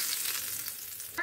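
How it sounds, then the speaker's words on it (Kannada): Hot ghee and cumin tempering poured into a leafy-greens tambuli, a brief close burst of bright sizzling that crackles for about a second before a small clink at the end. "ತುಪ್ಪ ಮತ್ತು ಜೀರಿಗೆ ಹಾಕಿರೋ ಒಗ್ಗರಣೆ ಹಾಕ್ತಾ ಇದ್ದೀನಿ"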